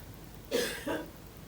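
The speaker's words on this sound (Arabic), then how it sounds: "دي امك بتكح جوه يا ابني" A woman coughs twice in another room, two short rough bursts fairly close together, muffled and otherwise alone.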